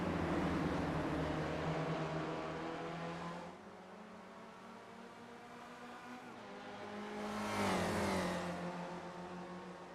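Masters and Spec 1 race cars battle near the end of a race at Bathurst, their engines droning loudly with steady harmonic whine, easing off midway, then one car roars past close by with a rising-then-falling pitch.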